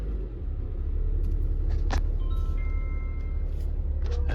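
A Toyota RAV4 engine idles steadily after starting, a loud constant low rumble with a few faint clicks and brief higher chirps over it, no talking.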